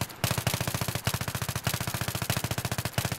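P90 submachine gun in Battlefield 3 fired in short micro-bursts, rapid loud rattling shots in quick clusters separated by brief gaps, continuing steadily.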